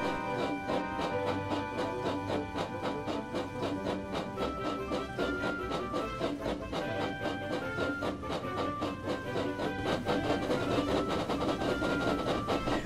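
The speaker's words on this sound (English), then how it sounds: "The heavy train drew out of the platform." Three steam tank engines pull a heavy train out of a platform, giving a rapid, steady rhythmic chuffing and clanking throughout, with sustained tonal sounds layered over it and no speech.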